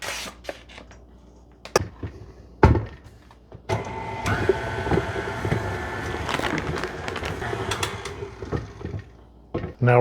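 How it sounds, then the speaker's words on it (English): An electric mixer beats an appetizer mixture on high speed, whirring steadily for several seconds after a few sharp knocks and clatters of handling. "We're going to beat this on high for about 30 seconds."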